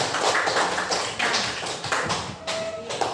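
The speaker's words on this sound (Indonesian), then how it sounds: "untuk itu kita berikan aplaus dulu untuk semuanya" Students in a classroom applaud their classmates' group work, a dense wash of many hands clapping steadily for about three seconds at moderate level.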